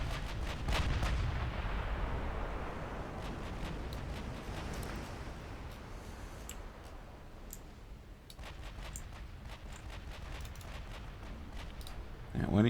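Naval secondary battery guns firing in a video game, rapid repeated booming shots with sharp clicks over a continuous rumble, with a voice talking throughout.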